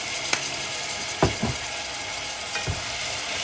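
Soy sauce is stirred into Filipino escabeche fish sizzling in a pan, with a steady fry hiss broken by a few distinct scraping strokes of a utensil against the pan.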